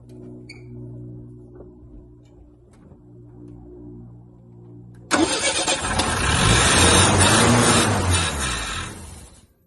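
A Dodge Charger with a suspected fuel problem cranks loudly after a quiet stretch of faint hum, its starter grinding steadily for several seconds before cutting off.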